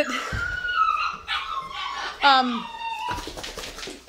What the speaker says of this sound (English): the puppies are crying